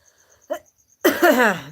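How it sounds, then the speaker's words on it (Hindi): A woman with breathlessness makes a single short, sharp cough-like burst, followed by a louder, harsher strained vocal outburst, with faint insect chirps in a quiet background. "सांस फूल रही है, खांसी आ रही।"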